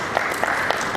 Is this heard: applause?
yes